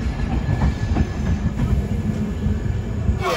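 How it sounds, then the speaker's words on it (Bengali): A passenger train rolls along the tracks on a journey from Kolkata toward Lucknow, with a loud continuous rumble and faint rhythmic clacking of wheels, heard close from inside the train and without talk. "আর এসে পৌঁছালো ট্রেন লখনৌ, একদম রাইট টাইমে ট্রেন চলছে।"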